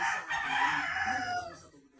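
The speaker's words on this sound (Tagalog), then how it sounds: "May mga alaga nila mga manok." A rooster crows loudly and drawn-out, with chickens clucking in the background.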